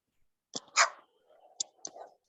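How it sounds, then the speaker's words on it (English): A dog barks a few short, sharp times in the background of a video call, fairly faint and spaced apart with quiet gaps between. "I hear somebody's dog, Jim."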